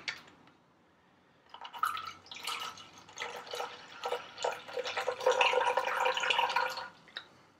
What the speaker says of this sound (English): Top it up with water.